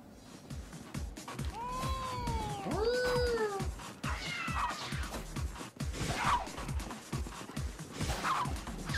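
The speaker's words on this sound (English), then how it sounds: "It's a goddamn cat." A cat in the video game Tokyo Jungle gives several loud, drawn-out meows and yowls close by, over a steady rhythmic thumping of game sound.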